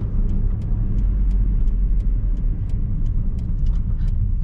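Steady, loud road noise from a Nissan Micra 1.4 driving along, with a continuous low rumble and drone throughout and no voices.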